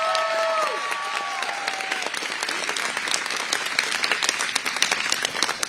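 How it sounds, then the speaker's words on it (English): An audience at a school choice rally applauds with sustained clapping, while a brief whistle-like tone sounds at the start. "Come on, a little bit louder round of applause for this girl."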